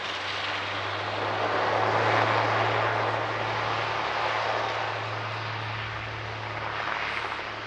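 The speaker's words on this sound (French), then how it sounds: "La 400M, c'est un avion tactique à grand rayon d'action" Steady drone of an A400M military transport propeller aircraft flying at the SIAE 2023 air show, a continuous low hum with broadband engine roar that swells slightly midway, heard alone.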